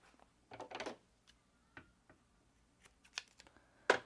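Scissors snip a small notch into fabric to mark the center of a piece while sewing a zippered pouch, giving faint, quiet clicks and snips in a hushed room, with no talk.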